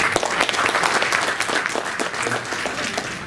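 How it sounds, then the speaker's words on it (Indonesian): An audience at a labor union meeting in Indonesia applauds the presidential candidates, a dense, even burst of clapping from a crowd that goes on throughout. "Aplaus untuk para capres."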